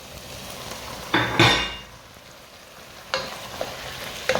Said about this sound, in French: Maintenant je vais ajouter les épinards.